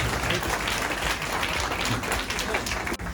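A college audience applauds at a felicitation ceremony for a UPSC topper: dense, continuous clapping from many hands, steady and moderately loud, with no talking.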